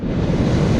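Ocean surf at Mori's Point beach washes in as a steady broadband roar with wind buffeting the microphone, close and fairly loud throughout.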